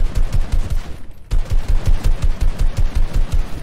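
Rapid, close, loud automatic gunfire from a shooter video game, a steady rhythmic stream of shots hitting the player, briefly broken by a short pause before resuming at the same pace.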